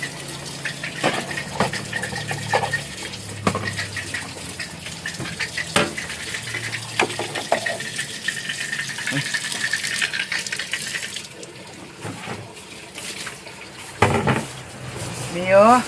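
Dishes being washed by hand with water: clinking plates and pans, short splashes and trickling water, with people talking now and then.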